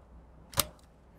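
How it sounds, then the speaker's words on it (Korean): A single sharp plastic click as a keycap remover pulls a keycap off a mechanical keyboard with blue switches, one brief close snap in an otherwise quiet room. "잘 작동하지 않거나 오류가 있는 키보드의 키캡을 제거해 보도록 하겠습니다."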